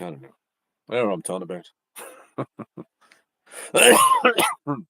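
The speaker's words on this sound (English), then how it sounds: "I've got a terrible, nasty cough." A person talks in short bursts, then breaks into a harsh, raspy chesty cough near the end, close to the microphone.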